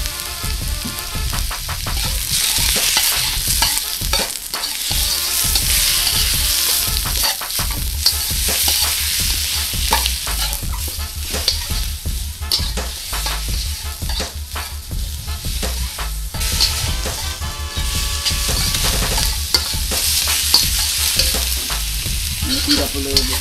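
Shrimp fry in a hot pan, making a continuous loud sizzle broken by repeated scraping and clattering as a utensil stirs them, close up and with no talking.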